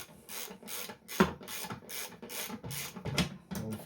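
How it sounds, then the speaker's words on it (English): Old-fashioned hand ratchet turned during a service of an Ariens 28 Deluxe SHO snowblower, a close series of rhythmic rasping clicks in short, regular strokes of roughly half a second each. "Old-fashioned ratchet."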